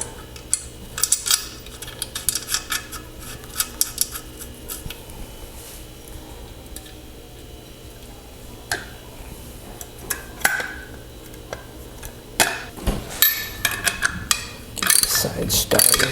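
A washer and nylock nut are threaded onto the bolt of a restored Park Tool TS-2 truing stand, giving close metallic clicks, small ratcheting ticks and clinks scattered over a low hum, with occasional talk.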